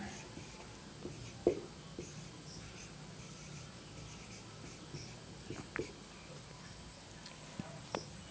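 A teacher handwrites on a board while preparing a knockout fixture for eleven teams, producing faint, intermittent scratches and light taps. The room is otherwise quiet and no speech is heard.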